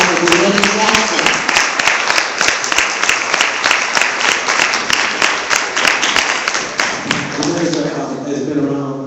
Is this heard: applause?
yes